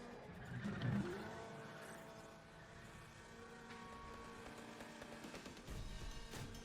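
In the Need for Speed The Run racing game, a car engine hums steadily with brief tire skids, fairly quiet overall with a louder burst near the start.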